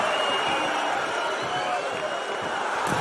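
Arena crowd noise from a WWE 2K wrestling video game Royal Rumble match, a steady dense roar of cheering and murmuring that stays loud and continuous throughout, with no break.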